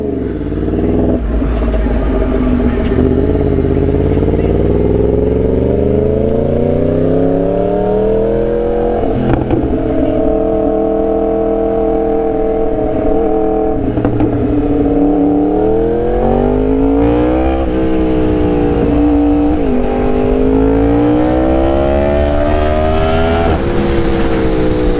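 BMW M1000R motorcycle revving off road, the engine pitch climbing and falling repeatedly over a sustained loud roar, close and alone without talk.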